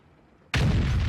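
A tank gun fires in World of Tanks, a single sudden loud boom that cuts in after near silence and keeps roaring with heavy low rumble.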